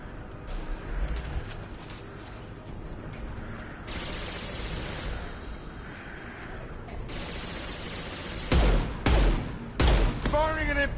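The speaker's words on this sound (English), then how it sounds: "Firing an impact shot!" Impact-shot gunfire in Mass Effect 2, with loud bursts of sharp blasts near the end among the game's combat noise and effects; a voice can be heard in the mix.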